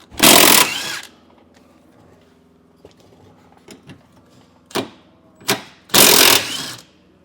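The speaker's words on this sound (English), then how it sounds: "take an 18mm socket and remove the 3 bolts that are holding this whole assembly in place" Bolts are loosened from leaf spring hangers with an 18mm socket under a 2020 Grand Design RV, fitted with a Roadmaster Comfort Ride suspension kit. Loud harsh power-tool bursts come up close: one long burst, two short ones and a final long burst, with quiet gaps between.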